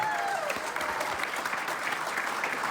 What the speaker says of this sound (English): Everybody, huge round of applause for your YouTube winner 2019, Mike Dawson.